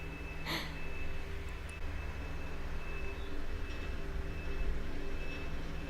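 Outside, a garbage truck works with a steady low engine rumble, a faint high reversing tone running throughout and a brief sharp hiss early on.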